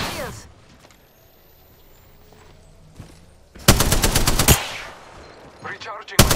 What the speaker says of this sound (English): Byron, they're shooting at me! I'm taking fire